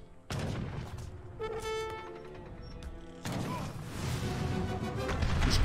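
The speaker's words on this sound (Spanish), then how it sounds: "Los cohetes." Two sudden loud bursts of rocket fire in Age of Empires 3, each followed by a crackling, ringing rush that carries on for a few seconds.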